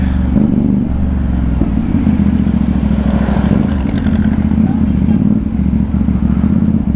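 CFMOTO 450CL-C motorcycle accelerating to overtake, its engine close and loud with a steady, heavy rumble that swells slightly through the run, with no break in the sound.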